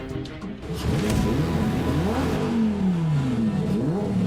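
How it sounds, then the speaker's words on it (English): Die-cast racing car engines rev and accelerate off a starting gate, pitch rising and sweeping as several vehicles roar off together, loud and close with no talking. "The engines are revving, and there they go."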